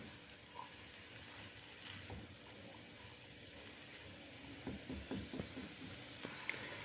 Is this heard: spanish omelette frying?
yes